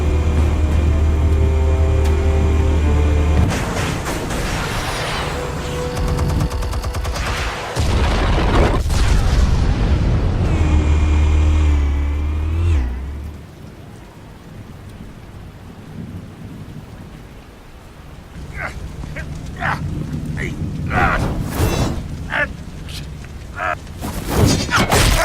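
Gunfire and explosions from the Batman Telltale Series video game, Episode 1, burst out as loud, heavy booms and rumbling blasts, then fade to quieter scattered bangs and sharp hits.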